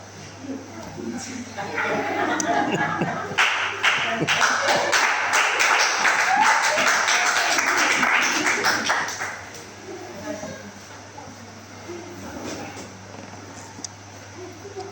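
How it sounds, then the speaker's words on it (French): Audience applause at a talk: a dense burst of clapping swells, holds for several seconds, then fades out, leaving quieter scattered sounds. "Vous avez applaudi"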